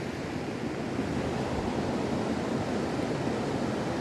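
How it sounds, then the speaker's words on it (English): Rushing creek water swollen with cold snowmelt flows beneath a trail bridge in the Pasayten Wilderness near Ross Lake, a steady, loud broadband roar that holds unchanged and unbroken throughout. "Quite a bit of water going through there."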